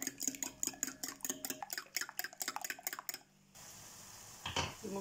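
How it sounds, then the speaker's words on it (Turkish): A spoon scrapes and clinks rhythmically against a metal bowl while stirring a seasoned Turkish eggplant mixture with salt, chili flakes and black pepper, quick repeated knocks close up, ending in a softer pause and a final scrape. "İyice karıştırıyorum."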